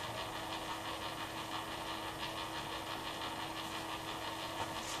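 A Lexus Toyota hybrid transmission on a test bench, spun up gently for a first run, gives a steady low mechanical whir and hum that holds at a constant level throughout, with no talking.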